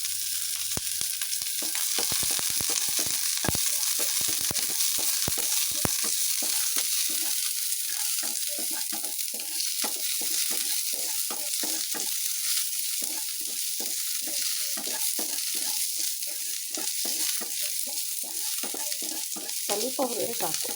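Onions sizzle in hot oil in a pan for okra chutney, a constant close crackling hiss broken by repeated scraping strokes of a spatula stirring them, with no talking.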